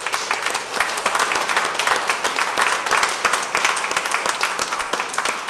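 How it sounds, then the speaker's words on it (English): A round of applause from the audience at an evening Q&A forum, many people clapping together in a full, bright, steady burst that holds at a strong level for several seconds. "Let's give them a round of applause"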